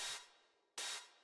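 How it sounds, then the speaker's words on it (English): Two short metallic friction hits, a percussion sample for a modern deep house track, each a bright hissing scrape that fades quickly, heard alone and spaced under a second apart. "and then finally another friction, but this one is more metallic."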